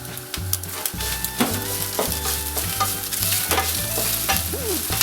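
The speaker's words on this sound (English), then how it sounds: "The eggs are cooked well and fried." Eggs frying in a pan while chicken noodles are being made, heard as a close, steady sizzle broken by repeated clattering scrapes and knocks of a spatula against the pan, with no voices.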